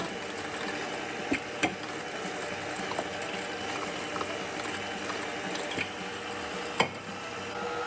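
Ravioli dough being fed through a hand-cranked pasta machine at its thickest setting, a steady mechanical ratcheting whir with a few sharper clicks, close and continuous.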